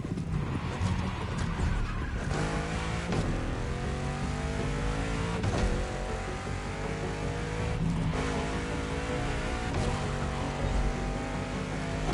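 A supercar in The Crew racing game drives with its engine revving continuously, a dense, loud mechanical roar with rising and falling pitch and occasional tire noise, with no voices.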